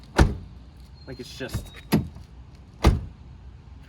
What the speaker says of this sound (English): when you shut the door on these cars